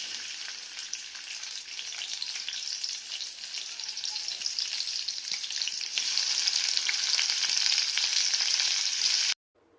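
Onion and tomato frying with salt in a pan, a loud, steady, close sizzle and crackle that grows slightly stronger midway and runs on without pause before stopping abruptly.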